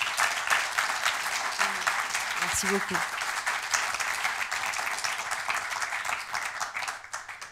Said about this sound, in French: je vous prie à nouveau d'accueillir et d'applaudir Alice Taglioni.